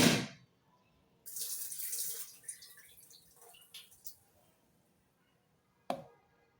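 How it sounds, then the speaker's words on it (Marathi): Water splashes and swishes close by as toor and moong dal are rinsed in a bowl, in a couple of short bursts separated by quiet gaps. "हे आधी स्वच्छ धुवून घेणार आहे डाळी दोन्ही"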